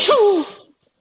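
A single short human sneeze, close and fairly loud, ending abruptly into silence.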